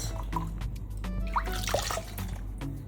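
Water rinsing over a newborn baby during a bath, with soft, close splashes and drips and a brief pouring trickle over a low steady background, no speech.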